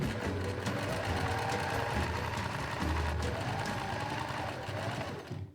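A sewing machine runs a long straight stitch on fabric for a rose choker, its motor humming in a fast, even, continuous chatter, close and steady until it slows and stops at the end.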